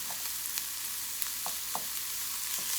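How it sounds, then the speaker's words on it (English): Pork frying in its own rendering fat in a pan with no added oil, giving a steady quiet sizzle with a few soft pops and stirring scrapes spread through. "this meat has enough fat. It's going to melt, render"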